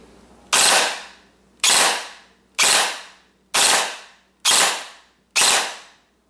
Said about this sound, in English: That right there is a burst fire from this thing.